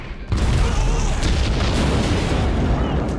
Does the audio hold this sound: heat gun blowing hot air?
no